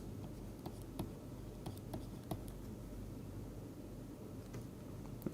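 Quiet, steady scratching of writing strokes, with a few sharper taps as the pen or chalk moves, faint under a constant background hiss.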